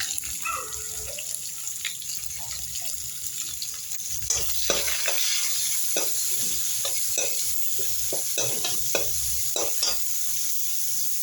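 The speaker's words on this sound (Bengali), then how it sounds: "দেখো এবার পেঁয়াজ দিয়ে দেবো" Onions, along with bay leaves and cardamom, frying in hot oil in a home kitchen: a loud, continuous sizzle close by, with repeated stirring scrapes and clicks over about eleven seconds and no talking.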